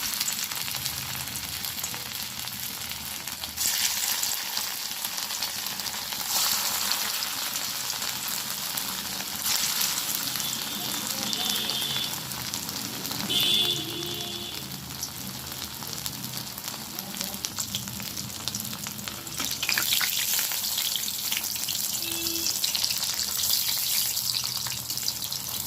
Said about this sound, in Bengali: বড়াগুলো আমি ভেজে নেব।